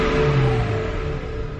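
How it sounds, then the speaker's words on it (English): Brief mid-pitched rev of a BMW N54 engine in a car, the tone rising then easing back, heard close and alone. "Car's running, revving it up."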